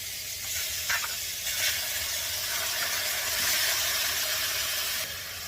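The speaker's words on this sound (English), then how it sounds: "So we're really just kind of sauteing the shrimp up." Marinated wild-caught shrimp sauté in a hot skillet with garlic, giving a continuous close hissing sizzle with a few soft crackles and no talk.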